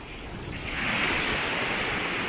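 Surf rolls in steadily at Coco Beach, Costa Rica, a close, continuous wash of breaking ocean waves with some wind rumble across the microphone.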